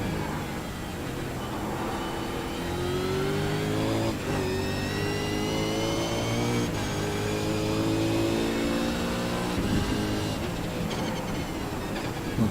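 A race car engine holds a steady mid-pitched drone as the car eases off and cruises to the finish on a track, with pitch sweeps and small bumps from gear changes.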